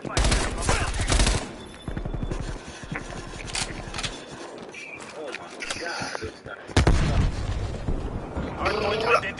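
Gunfire from a weapon in a first-person shooter on a hardpoint match, repeated loud bursts of rapid shots broken by short pauses, with a few heavier blasts and a voice talking between them.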